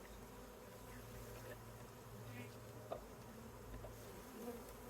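Honey bees, nurse bees from a hive frame, buzz in a dense, continuous drone close by while being shaken into a box. A faint thump lands near the middle and soft voices sit low in the background.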